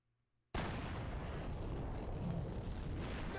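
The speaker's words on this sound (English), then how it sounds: "How the fuck do you make exploding bullets?" Explosive bullets blast in the No More Heroes video game on Switch, New Game Plus: after half a second of near silence a loud, dense roar of detonations bursts in and rumbles on without a break to the end.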